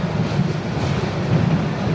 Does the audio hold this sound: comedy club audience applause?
no